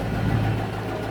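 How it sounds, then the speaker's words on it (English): A 1994 Range Rover engine idles from a cold start with noisy tappets, a steady low rumble and faint ticking held close and constant, no talk. "Very noisy tappets on startup though from cold."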